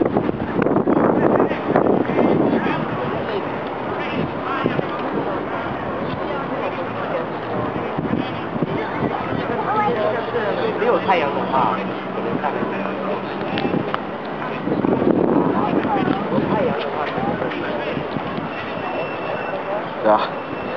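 Wind blows steadily by the river near the Tower of London, a continuous broadband rush that swells in gusts, with a person talking over it throughout.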